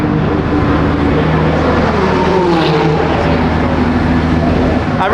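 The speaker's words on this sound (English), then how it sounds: "all the hypercars are starting to go on the track" Hypercars roll onto a race track, engines droning and revving in a dense, continuous roar, with one car sweeping past at mid-distance and a faint voice in the background.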